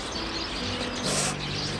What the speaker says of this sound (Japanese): めっちゃピヨピヨいってる。